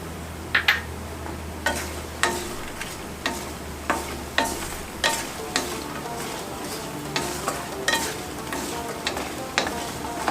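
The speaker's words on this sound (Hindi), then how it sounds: "अब हम मखाने डाल देंगे इसी घी में और इनको हम फ्राई कर लेंगे अच्छी तरह से।" Makhana (fox nuts) frying in ghee for coriander panjiri, a constant sizzle broken by regular sharp scrapes and clinks of a spoon stirring in the pan, close and clear with no talking.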